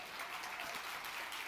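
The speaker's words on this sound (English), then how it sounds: "Let's give them a big round of applause." Audience applause for award nominees and winners at a food industry event, a dense, continuous burst of clapping that stays even throughout.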